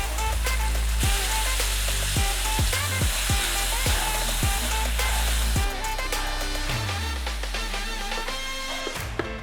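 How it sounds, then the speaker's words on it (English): Onions and garlic sizzle steadily in a hot pan. The frying is dense and loud, with repeated low knocks from stirring. "So what we're going to first do is onions and garlic into a hot pan."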